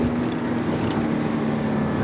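A manual-transmission car's engine drones steadily at close range as the accelerator comes off and the clutch goes in mid-shift from second to third on a curvy road.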